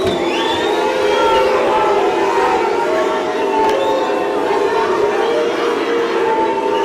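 A rugby match crowd roars and cheers continuously at the Tygerberg versus Hamilton game, a dense, steady wash of massed voices with occasional rising shouts, loud and close throughout.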